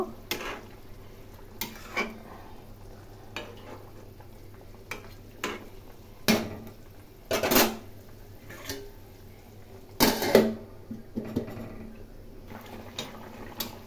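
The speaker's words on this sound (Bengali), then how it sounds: "ঝোল ফুটে গেছে, এখন এর মধ্যে মাছগুলো দিয়ে দিলাম।" Small fish go into a simmering Bengali fish curry, jhol, with soft bubbling under scattered sharp clinks and scrapes of utensils against the pot, close and quiet.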